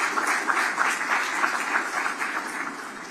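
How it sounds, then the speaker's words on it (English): Steady crowd applause and clapping for a special guest at the Sigma 25th Legacy Run launch event, a dense, continuous wash of many hands that holds at full strength and eases only slightly toward the end. "Give her a round of applause."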